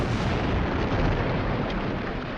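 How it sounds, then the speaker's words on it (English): Explosion aboard the battleship Maine, a dense roaring blast with rumbling, crackling debris that stays loud and sustained throughout, with no voices. "an explosion rocked the front end of the ship."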